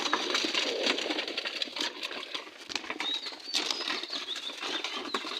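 A restless male pigeon flutters and scrabbles in a cage, making scattered wing flaps and light scratchy taps over a steady noisy background.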